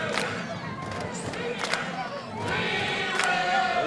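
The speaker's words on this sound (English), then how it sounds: "Waco High crowd getting into it." Waco High School crowd at a Texas high school football game against Harker Heights, a dense roar of many voices cheering and chanting, steady throughout and swelling louder in the second half.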